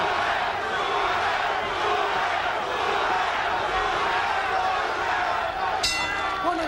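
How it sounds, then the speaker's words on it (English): A boxing arena crowd roars in a broad, steady wash for Roberto Duran during his 1983 fight with Marvin Hagler, the noise continuous and dense, with a sharp clatter near the end. "Crowd comes alive once more with a chant, Duran, Duran."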